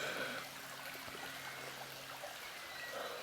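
A small river flowing under a road in a glen, a faint steady trickling and gurgling wash of water with a few light splashes, no voices.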